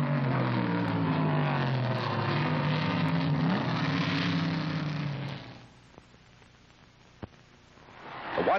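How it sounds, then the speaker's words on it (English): 1970 Trans Am race cars lapping a rain-soaked Watkins Glen track, a loud engine drone holding for about five seconds then dropping away, leaving faint distant motor noise and a rising pass at the end. "the cars plow around the slippery track toward their second stop"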